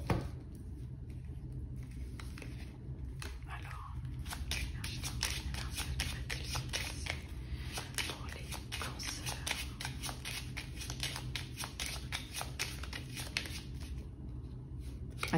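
Deck of 32 playing cards being shuffled at a table, rapid soft riffling and flicking repeated steadily and close, fairly quiet with no speech.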